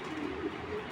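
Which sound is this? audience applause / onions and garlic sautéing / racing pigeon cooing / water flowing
racing pigeon cooing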